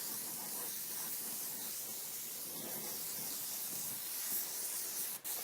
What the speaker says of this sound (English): Airbrush is great for these areas.